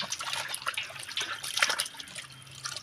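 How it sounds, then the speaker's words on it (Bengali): Running water splashes and trickles over a cabbage being washed, a steady close wet patter with small drips, fairly quiet and with no voices. "ভালো করে ধুয়ে নেব বাঁধাকপিটা।"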